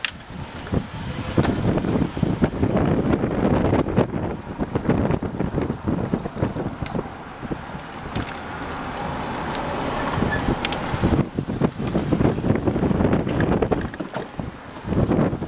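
A bicycle ridden at speed, heard mostly as loud, continuous, gusty wind rushing over the microphone, with rumbling buffeting that swells and eases throughout.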